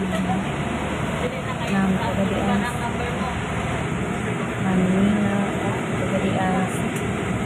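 Airport shuttle bus carrying passengers to a plane at Manila Terminal 1 gives a steady low engine rumble and road noise throughout, with faint voices murmuring inside.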